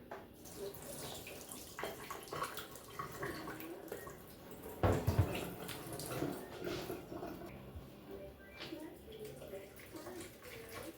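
Water is poured over raw chicken to wash it in a home kitchen, splashing and running steadily at moderate loudness with one sharper splash partway through, and faint voices in the background.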